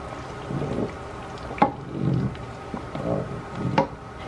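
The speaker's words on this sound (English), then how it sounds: "now I'm just gonna stir it" Sauce with sugar being stirred in a pot, with soft wet swirling in slow repeated strokes and a few sharp clinks of the utensil against the pot, faint and without voices.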